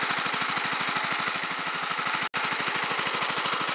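A small engine runs steadily, driving an induction motor generator, with a fast even chugging pulse and a constant rattling drone, close and continuous apart from a momentary dropout partway through.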